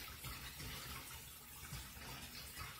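Water runs from a bathroom sink faucet being turned up, a steady, faint, even rush of hiss and splash with no voices.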